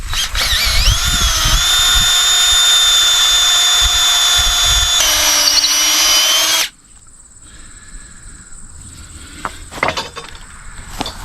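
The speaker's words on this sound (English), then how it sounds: "I'll get a bigger drill, get this done" A power drill whines loudly and steadily for several seconds, boring a 4-inch hole into a wooden implement pole at a sawmill, its pitch shifting as it bores, then stops, leaving quiet background noise with faint clicks.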